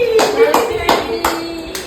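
Hand clapping at a family egg roll eating challenge, about five sharp claps at an even, moderate pace, close and loud, with a faint steady tone running underneath.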